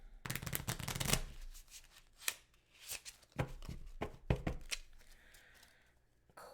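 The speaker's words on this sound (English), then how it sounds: "That means you just shuffle these. Do these a quick shuffle." Quick riffle shuffles of a deck of game cards at a tabletop, a dense flurry of crisp flicking followed by scattered snaps and taps, close and clear.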